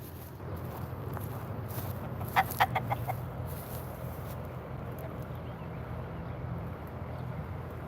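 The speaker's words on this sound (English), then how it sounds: "the chickens are out, guys." Chickens, including a green-feathered rooster, cluck outdoors beside a shipping container, a short burst of several rapid clucks near the middle over a low steady background rumble.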